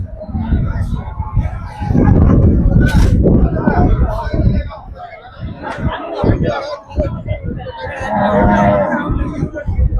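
Cattle lowing amid the steady hubbub of a crowded Monday livestock market at Melapalayam, with loud moos rising over constant chatter and people talking nearby throughout.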